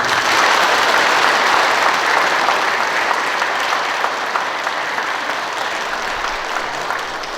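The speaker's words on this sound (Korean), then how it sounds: "박수." A congregation claps warmly during a Catholic Sunday Mass at a parish church in Incheon. The applause is steady and dense from start to finish and fades only slightly toward the end, with no talk over it.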